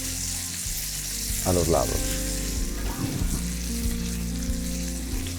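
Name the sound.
meat frying in paella pan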